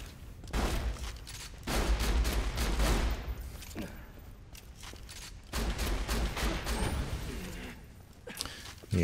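Bursts of gunfire from the Borderlands video game, with heavy shotgun blasts hitting in loud, dense clusters, each cut off by short pauses before the next volley.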